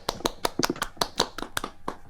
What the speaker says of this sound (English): A round of applause to them all.